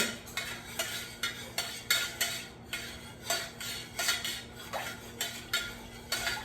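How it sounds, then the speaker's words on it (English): Melted candle wax blended with fragrance oil being stirred in a jar, a regular rhythmic scraping and clinking of the utensil against the container, about two strokes per second, close and clear with no talk. "this is the candle, and I already give it another stir"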